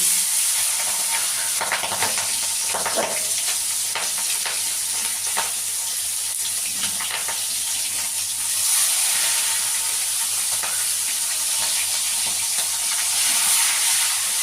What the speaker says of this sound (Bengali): তেল গরম হলে মাছগুলো আমি হালকা হালকা করে ভেজে নেবো